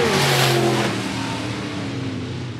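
Sport modified race cars roar down the back straightaway at Phillips County Raceway, a loud, steady engine drone with pitch shifting as they pass nose to tail, fading slightly after the first second.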